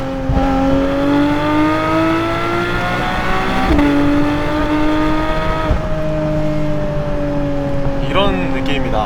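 A Porsche 718 Cayman GTS 4.0 engine in Sport Plus mode, a close, loud, steady tonal drone with clear harmonics, briefly dipping and shifting pitch, then a quick rev near the end.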